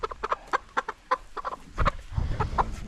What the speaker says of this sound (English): That's the rooster doing the best he can to help out.